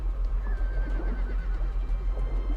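A horse in the game Conan Exiles neighs in one drawn-out, wavering whinny over steady low ambient rumble, fairly close and clear, with no voices.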